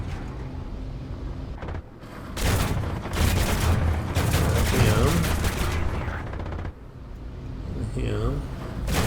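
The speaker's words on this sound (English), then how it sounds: "I'm gonna drop one here on this tank at A." An aircraft bomb bursts on a tank in War Thunder, a loud, sustained roar of blast and rumbling debris lasting several seconds amid continuous battle noise, with a voice speaking over it.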